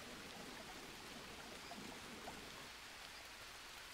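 Steady rain in the jungle survival game Green Hell, a dense, even hiss of falling drops that stays constant and fairly soft throughout, with no voices.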